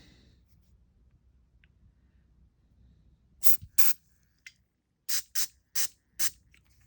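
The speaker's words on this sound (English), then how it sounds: "Throw some carb cleaner through here." Carb cleaner sprayed through the carburetor of a 2006 Volano scooter: about six short, loud hissing bursts in quick succession after a quiet start, with a faint background hum.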